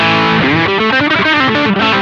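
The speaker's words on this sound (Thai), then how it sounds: "ลองเปิดคอมเพรสเซอร์นะครับ" Distorted electric guitar through a PRS Mary Cries optical compressor pedal plays a short, loud, even-sustained phrase with sliding notes, close and alone.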